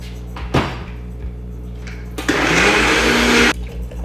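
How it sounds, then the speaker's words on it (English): A kitchen blender whirs loudly through a vegetable smoothie in one steady burst of about a second and a half, after a few softer knocks and clicks. "I'm gonna blend this up."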